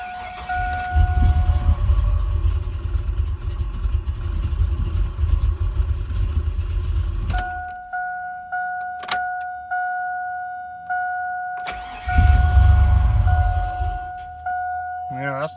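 A tuned truck engine cranks and fires on its first start, running loudly for several seconds, cutting out amid warning chimes, then briefly catching again, with a person talking over it.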